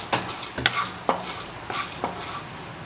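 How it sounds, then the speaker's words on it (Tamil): Urad dal roasting in hot oil over medium heat for a spicy chutney, with a soft sizzle under several sharp scrapes and clinks of a spoon stirring in the pan, quiet and close, no talk. "மிதமான சூட்டில் வச்சுட்டு உளுந்தை வறுத்துக்கோங்க"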